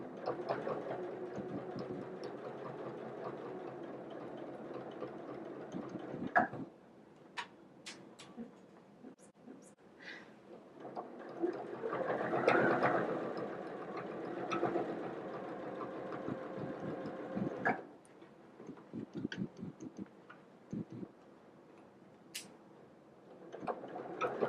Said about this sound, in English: I like to go slow so I can sew really close to the edge of that dress